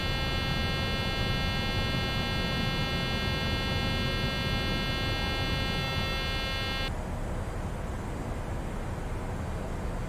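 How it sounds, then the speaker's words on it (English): In Microsoft Flight Simulator 2020, a Boeing cockpit's warning tone sounds as a steady electronic buzzing over engine and airflow noise, cutting off about two-thirds of the way through while the background rumble continues. "beeping will be over shortly."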